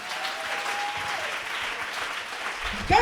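Church congregation applauding in a steady, full burst that fills the whole stretch, with a sustained tone fading early on and a brief louder voice or sound at the very end.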